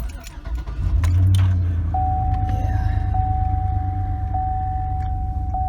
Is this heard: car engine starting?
yes